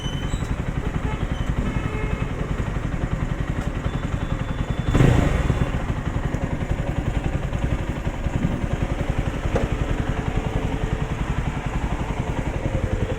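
Jawa 42 FJ motorcycle engine idling up close with a rapid, even thumping beat and a brief louder blip of throttle midway, with no talking.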